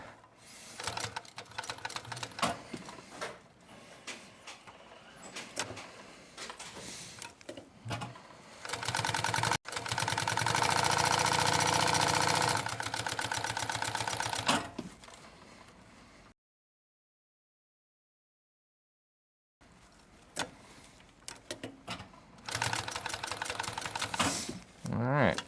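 Sewing machine stitching around the corners of leather pieces, using a knee lift to raise the presser foot: bursts of fast, close mechanical whirring with a sustained run, a silent gap, and a person talking between stretches.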